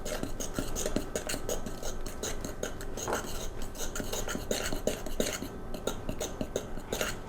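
Raspberry cobbler batter being mixed in a bowl: a steady stream of scraping, clinking utensil strokes against the bowl, close and fairly quiet, with no voices.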